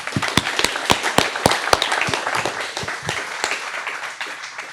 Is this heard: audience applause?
yes